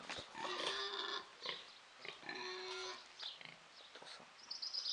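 Pigs grunt and squeal in repeated bursts close by on a sheep cheese farm in the Béarn Pyrenees of France, with a bird chirping faintly near the end.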